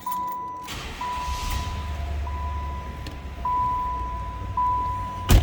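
A 1994 Cadillac Fleetwood sedan engine idles with a low, smooth rumble while a steady electronic chime tone sounds over it.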